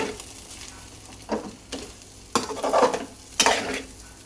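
A snack made with hen and fish eggs is stirred in a hot pan, giving a steady soft sizzle broken by several loud scraping strokes of the spatula, close and without any talking.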